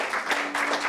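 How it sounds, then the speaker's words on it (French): Audience applause at a science communication final on stage, a short burst of dense clapping filling the room, steady and fairly loud throughout. "Qu'on applaudit bien fort"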